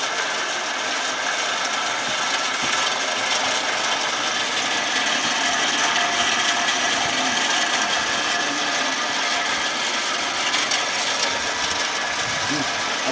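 A machine at a biogas power generation plant runs continuously as it feeds a prepared mixture into the plant, a loud, dense mechanical whir with rattling, gear-like texture, steady for the whole stretch and close by.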